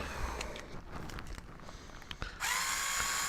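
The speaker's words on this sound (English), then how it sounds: "If you don't have one of these powered screwdrivers from Black & Decker, I recommend picking one up" A Black & Decker powered screwdriver backs a screw out of a TRX4 RC truck's front axle, with short whirring bursts and scattered clicks and handling noises, then a steadier buzzing run near the end, close and fairly quiet.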